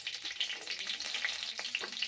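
Green chillies frying in a hot pan while sago khichuri is made for Ekadashi, giving a steady, close sizzle with small crackling pops throughout.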